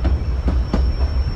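The White Pass train runs on its rails with a steady low rumble and a few rhythmic wheel clacks, close and loud, in a short stretch with no talking.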